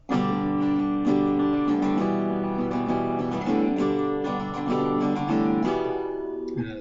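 Guitar strumming a steady progression that moves from a major chord to its relative minor, bright ringing chords with regular rhythmic strokes throughout, no talking.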